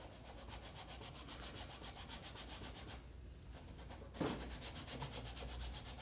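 Wood being sanded by hand with sandpaper wrapped around a wood rasp, a steady close rhythmic rubbing scrape that pauses briefly and then resumes.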